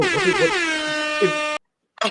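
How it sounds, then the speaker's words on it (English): A loud, sustained air horn blast with a rich buzzing tone, cutting off abruptly, followed by a short second burst after a brief silence. "and we got our air horn."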